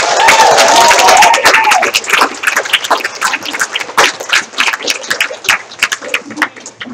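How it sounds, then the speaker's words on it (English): Applause from a church congregation at a Sunday morning service, a burst of clapping that thins into scattered claps and fades over several seconds. "So give him a round of applause."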